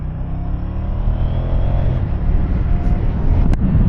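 A 2024 Moto Guzzi V100 Mandello S motorcycle engine idles with a steady, low, throaty rumble close by, running continuously with slight swells and a brief sharp click near the end.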